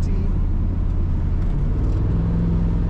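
A 1984 Dodge D150 Power Ram Royal SE Prospector 4x4 pickup cruises down the road, a steady close engine drone with road rumble, its pitch rising slightly toward the end.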